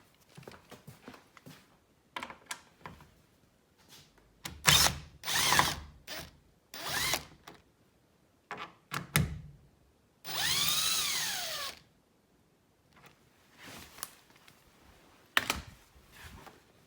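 An old, low-charged cordless drill backs out Torx screws while an antenna is removed from an EK Honda Civic. Short ratcheting clicks and handling noises lead up to one whining spin of under two seconds, with its pitch rising and falling.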